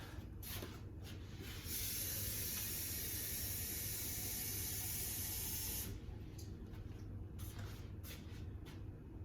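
Water pours steadily into a cooking pot, about 1.5 cups, with a rushing hiss for several seconds, framed by softer splashing and trickling.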